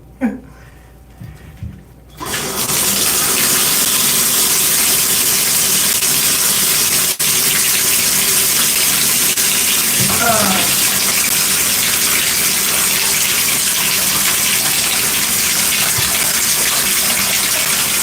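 After a few quiet knocks and rustles, a tap opens and water gushes steadily and loudly at close range during a hair-washing routine, with one faint voice under the flow.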